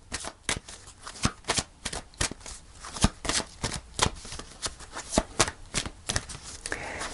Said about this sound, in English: I'm going to pull another card with that